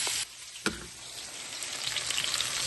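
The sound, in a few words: hamburger steak patties sizzling as they fry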